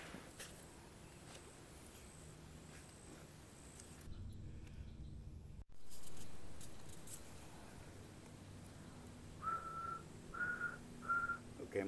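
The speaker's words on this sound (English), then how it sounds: "She's whistling to make sure that the mic's working." A person whistles outdoors on a camping trip to test a chest-worn microphone. Several short, clear whistled notes come near the end, with a loud blowing rush into the mic midway.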